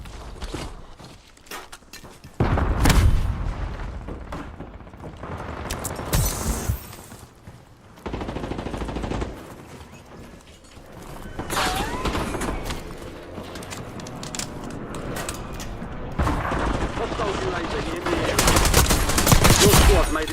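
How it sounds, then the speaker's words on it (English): Video game gunfire in a shooter match, with sustained bursts of rapid automatic fire and scattered single shots rattling on and off across a loud, busy firefight, with occasional quieter gaps between volleys. "Taking effective fire."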